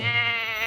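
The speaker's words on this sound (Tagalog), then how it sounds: "Laking gulat daw niya nang makita ang kambing sa mismong graduation" A goat bleats at a graduation ceremony, one sustained, wavering nasal cry lasting under a second, close and fairly loud with no other sounds.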